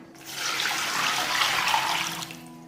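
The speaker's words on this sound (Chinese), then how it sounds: "先把这个鱿鱼用冷水泡发" Cold water pours steadily from a tap into a container of dried squid set to soak, a continuous close splashing rush that rises and then fades out.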